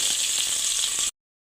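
Whole cloves, cardamom, cinnamon and black pepper sizzle in hot oil in a pot for beef biryani, a steady bright hiss that runs close and loud for about a second before cutting off abruptly.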